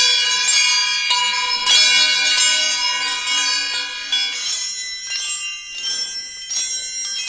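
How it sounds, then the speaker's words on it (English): Wind chime made from a bent fork and flattened spoons, ringing bright and metallic with overlapping strikes and long shimmering decays, close and loud. "Here's another one where the fork has been bent and the spoons have been flattened out. Listen how wonderful that is for a wind chime."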